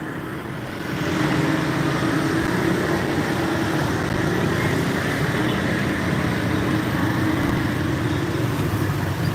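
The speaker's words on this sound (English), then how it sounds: "So the traffic's definitely coming back." Street traffic on Đồng Khởi Street in Saigon's District 1, with cars and motorbikes idling and rumbling in a steady, continuous wash that swells after the first second and holds at a moderate level, no voices over it.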